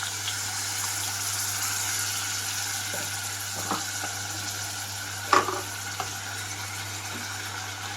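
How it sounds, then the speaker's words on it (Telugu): Tomato pieces frying with masala paste in a pan give off a steady, close sizzling hiss, with a few soft stirring clinks and bumps scattered through. "ఇప్పుడు ఇందులోకి టమాటో కూడా వేసేసుకుంటున్నాను"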